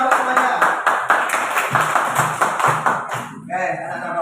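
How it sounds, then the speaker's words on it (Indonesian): Schoolchildren in a classroom clap for the first group, a quick, rhythmic patter of many hands. The clapping is close and steady, with a brief pause and a voice near the end. "tepuk tangan buat kelompok 1"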